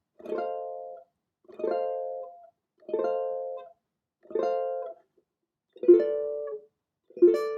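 A ukulele plays slowly, six separate plucked strums spaced about a second apart, each ringing briefly and dying into silence, close and quiet.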